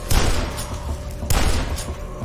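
Gunfire in the first-person shooter Dusk, two heavy blasts about a second apart, loud and close with booming tails.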